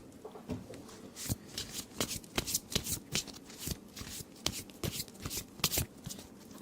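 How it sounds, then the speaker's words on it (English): Close, crisp riffling of playing cards being shuffled repeatedly, quick snapping bursts in an uneven rhythm, with no talking. "What was it when I was doing the cards? Like, was I like shuffling?"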